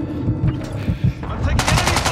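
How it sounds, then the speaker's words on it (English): Automatic gunfire rattles through a Call of Duty Modern Warfare 2 multiplayer match on El Asilo, with several loud bursts of rapid shots, the final burst especially sharp and close, amid background game chatter. "I'm taking enemy fire!"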